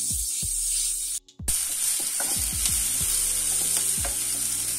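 Onions and peas sizzle steadily in a hot pan for poha, with a constant frying hiss and repeated clinks and scrapes as a spoon stirs them, with a brief pause partway through.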